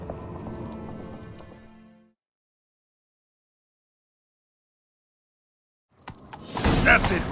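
Hooves of a galloping horse in The Witcher 3: Wild Hunt clatter briefly at the start and fade into silence, then a sudden loud burst of movement and rushing noise cuts in near the end.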